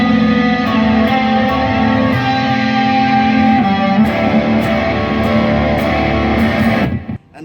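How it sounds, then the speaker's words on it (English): Electric guitar plays a steady, shimmering sustained arpeggiated part through Plumes, reverb and flanger pedals with a swirling, washed-out effect, continuous and loud until it cuts off near the end. "that is the plumes, a reverb, and a flanger"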